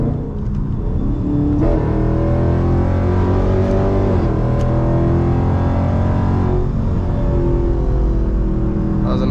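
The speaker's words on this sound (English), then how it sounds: "Let me put my gears down, that way I could get a good pull right now." A car engine accelerates hard through the gears during a data-logging pull. A loud, close rising roar climbs in pitch, briefly drops at each shift, then climbs again over about nine seconds.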